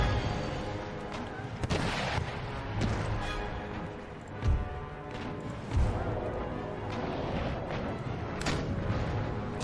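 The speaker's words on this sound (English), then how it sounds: "The Fern's starting to fire off their guns as she bears." Naval cannons fire in a sea battle in Empire Total War, with heavy booms and crashes scattered over a continuous rumbling battle ambience, some shots louder and nearer than others.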